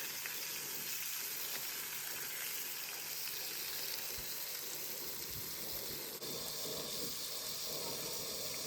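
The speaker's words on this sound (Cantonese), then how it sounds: "另一邊呢就整熱個鑊，準備煎啲蝦" Shrimp fry in a hot wok at a campsite, giving a steady, close hiss and sizzle that runs continuously throughout, with no talking.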